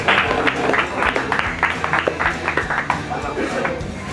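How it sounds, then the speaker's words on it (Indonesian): Applause from a stand-up comedy club audience fills the room, a dense, steady patter of many hands clapping across the whole stretch with mixed crowd noise. "tepuk tangan dulu sekali lagi"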